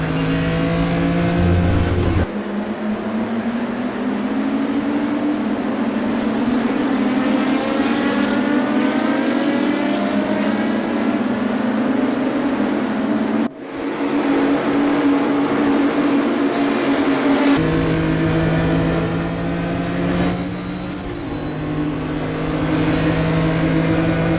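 A BMW M1 Procar races around Interlagos in the RaceRoom sim, its engine wailing loudly and continuously as it climbs through the revs, with abrupt gear-change drops and other cars' engines layered in.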